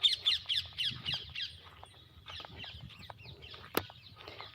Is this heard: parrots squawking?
yes